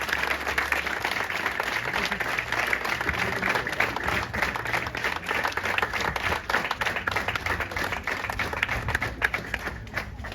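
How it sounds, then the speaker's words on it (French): An audience at a town ducasse festival applauds steadily, a loud sustained wash of many hands clapping together with a low background rumble, continuing without a break. "On peut encore l'applaudir."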